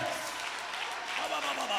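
A church congregation clapping hands during a worship song, a dense wash of applause blended with voices singing and speaking, steady across the moment.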